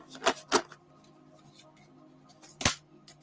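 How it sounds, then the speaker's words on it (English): Oracle cards being shuffled by hand: a few short, crisp riffling bursts close by, two in quick succession, then a pause and a louder final snap. "Let's shuffle."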